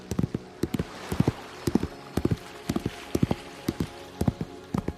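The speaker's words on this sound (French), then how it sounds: "Visualise maintenant un cheval blanc au galop sur une plage." Hooves of a white horse galloping on a beach pound in a quick, steady clip-clop rhythm, close and clear, repeating in tight groups of beats throughout with no voices over them.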